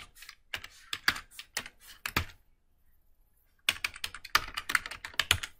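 Close, moderately quiet keystrokes on a computer keyboard while code is written, arriving in quick bursts with a pause of about a second and a half in the middle, with no speech.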